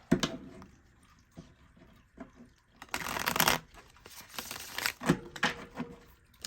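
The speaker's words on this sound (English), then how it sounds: "Oh, that's too many cards. Let me shuffle." Tarot cards are shuffled up close in irregular papery riffles and flutters, with a few louder bursts in the middle. No one speaks.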